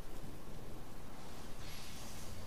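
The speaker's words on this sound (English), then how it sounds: "Alright, outside in the rain once again." Rain pours with low thunder rumbling in an outdoor area of the video game Nioh 2, a dense, steady wash of noise with a deep rolling undertone, fairly loud and unbroken, with no talking.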